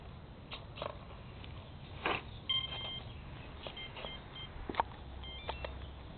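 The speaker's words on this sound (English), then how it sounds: "When you plug him up, listen for this beep." A T-Rex 450 RC helicopter gives a few short electronic ready beeps, sounding faintly amid quiet background noise and small handling clicks, with a pair of tones near the middle.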